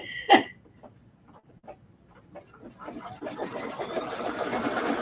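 An embroidery sewing machine running a triple stitch around a fabric trivet: a sharp knock, a quiet stretch, then rapid mechanical stitching that builds and continues close by.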